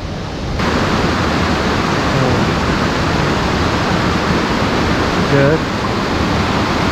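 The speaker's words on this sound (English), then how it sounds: "That's the main waterfall there." Main waterfall on Koh Samui, Thailand: a steady, loud broadband roar of falling water, close and continuous for the whole stretch after a brief quieter start.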